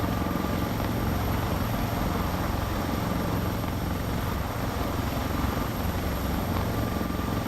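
A Sikorsky S-76C++ helicopter flies over the North Sea at sunset in Microsoft Flight Simulator 2024, its rotor and turbine making a loud, continuous, even drone with no break and no talking.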